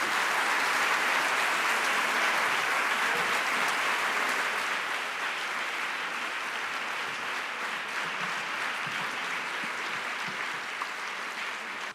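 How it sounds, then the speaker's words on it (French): Sustained audience applause for two speakers at a French talk on the brain and pedagogy, a dense steady clapping from a large crowd filling the whole stretch at even loudness before ending abruptly. "Donc déjà des applaudissements"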